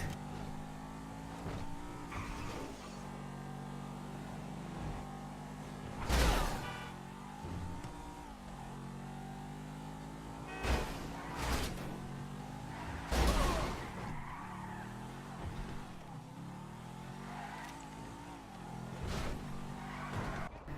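A car engine revs and shifts steadily in the video game Grand Theft Auto V, with occasional tire screeches and bumps as it races along at speed, no voices.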